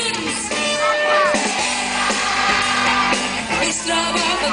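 Concert crowd at a live show in Castellar del Vallès singing loudly together over the band, a dense, continuous mass of voices with shouts and whoops.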